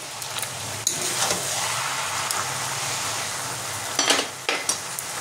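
Fish head and cabbage curry with garam masala being stirred in a pan: a soft, continuous sizzle with a few sharp clinks and scrapes of the spoon against metal, close by, without talking.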